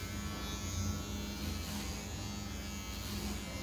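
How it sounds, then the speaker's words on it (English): An electric razor is shaving a man's hair into a mohawk, a close, continuous loud buzz that hums evenly throughout without voices. "If you hold the razor closer to the top,"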